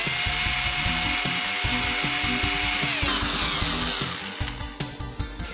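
A 2.5 mm drill bit widening a hole in a plastic toy train part, a steady high whine that stops around three seconds in, then a few short scraping strokes as it winds down.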